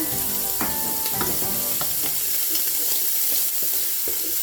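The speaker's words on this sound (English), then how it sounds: "we're going to go ahead and just render some of the fat off this" Meat for Italian meatballs frying in a pan over medium-high heat, fat rendering with a loud, constant close sizzle and a few sharp utensil clinks near the start.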